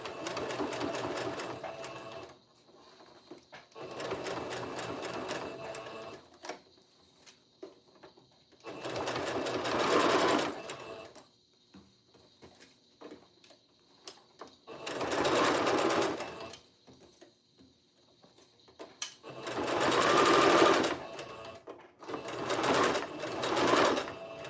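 A sewing machine stitches fabric for a memory bear in repeated bursts of whirring a few seconds each, separated by short quiet pauses, close and alone with no talk.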